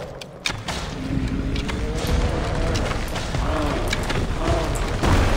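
A cyclops hurling a rock in Assassin's Creed Odyssey, heard as a heavy rumbling boom with crashing debris that sustains loudly through the clip, with a game voice and dramatic sounds layered over it.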